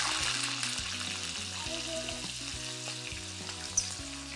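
Cumin seeds and field beans frying in hot oil in a wok, a steady bright sizzle and crackle, fairly close, with a faint background tonal hum and one small sharp pop near the end.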